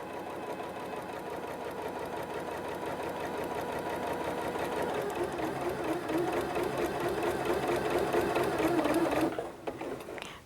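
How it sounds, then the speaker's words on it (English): A Janome computerized sewing machine stitches fabric with a steady, fast mechanical chatter that builds slightly before stopping abruptly near the end, heard up close and alone. "I'm going to start sewing. It automatically does a back stitch."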